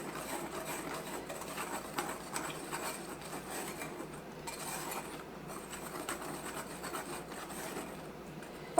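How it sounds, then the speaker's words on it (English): A whisk scrapes and rubs through unsifted powdered sugar in a bowl, a close, continuous soft scratching with slight rhythmic strokes throughout, no talking. "I didn't sift it, so I'm just going to whisk it a little bit"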